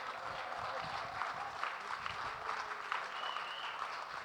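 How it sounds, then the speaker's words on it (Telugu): Standing applause from a reunion crowd at a school's 1975 batch 50-year celebration, steady dense clapping filling the room without a break, fairly distant and even in loudness. "ఒకసారి నుంచుని చప్పట్లు కొట్టమని కోరుకుంటున్నాను."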